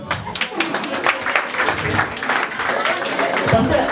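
Wedding guests in a reception hall applaud in a lively burst of clapping, with scattered voices and chatter mixed in close by.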